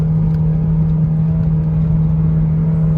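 A Mitsubishi Evo X with a failing SST transmission drones steadily under load from inside the cabin, a loud continuous low engine hum with no clear break, though the jerking shift is not distinct.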